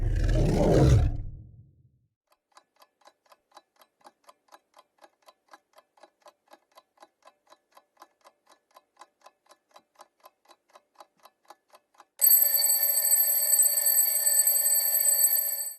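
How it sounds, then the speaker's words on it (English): A tiger lets out a brief, loud, deep roar at the start, then soft steady clock ticking follows before a loud alarm rings out at the end. "Did you get it right? It's a tiger."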